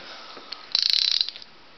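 A ratchet socket wrench turning a bolt on a Masport carburetor, a quick run of close, crisp clicks lasting about half a second, alone in a quiet room.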